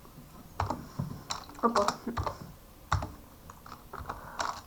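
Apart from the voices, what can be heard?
typing on a computer keyboard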